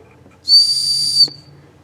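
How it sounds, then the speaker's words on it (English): A compression-test whistle screwed into the spark plug hole of a 2002 Chevrolet S-10 4.3 V6 gives one clear, steady, high whistle lasting under a second, rising and cutting off sharply as the cylinder comes up on compression. "you screw that in the hole where the spark plug was supposed to be, and when you're coming up on compression stroke, it'll whistle."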